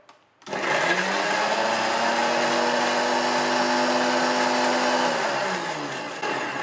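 A blender blending a drink whirs loudly and steadily for about six seconds, its motor pitch holding even before easing slightly near the end.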